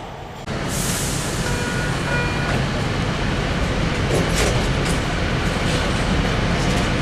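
A subway train pulls into the underground 7th Street Metro Center station in Los Angeles, with a loud, sustained rumbling roar and screech of wheels and brakes beginning abruptly, with no talking.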